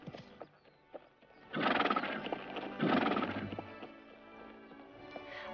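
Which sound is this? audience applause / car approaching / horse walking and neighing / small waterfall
horse walking and neighing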